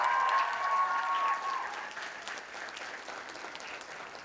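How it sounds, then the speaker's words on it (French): A theatre audience applauds young technicians on stage at a local school talent-show final, steady clapping from a crowd that gradually softens, with no talk over it. "On accueille nos jeunes techniciens, eux aussi, on peut les applaudir."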